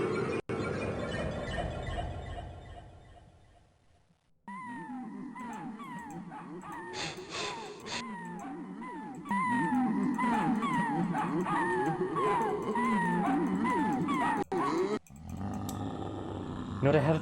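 Dog whimpers, yips and howling in the video game Cosmology of Kyoto, a run of rising and falling canine cries over a low background, moderately loud, with brief pauses and an abrupt cut near the end.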